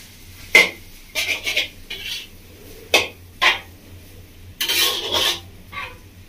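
Chow mein with mushroom stirred in a pan, heard as repeated, separate scraping and clattering strokes of a utensil against metal over a low background hum.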